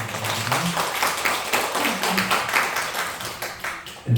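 A church congregation claps in welcome for a visiting pastor, a steady wash of many hands patting at moderate loudness for about four seconds before a sharp burst at the end.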